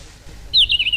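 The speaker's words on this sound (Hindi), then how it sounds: "पक्षियों ने अपनी आवाज जैसे ही निकालनी शुरू करी" A single bird calls out clearly in a forest setting, a short bright chirping phrase rising over quiet low background noise.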